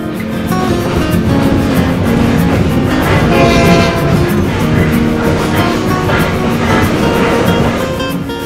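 A night train runs south along the coast from Hanoi, Vietnam, its loud steady rumble filled with rhythmic wheel clatter and metallic rattling from the carriages, continuous throughout at close range.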